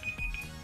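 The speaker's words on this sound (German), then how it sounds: "Oh Gott, mein Timer!" A kitchen timer alarm ringing with a steady high electronic tone that pulses briefly and sounds fairly close, with no speech over it.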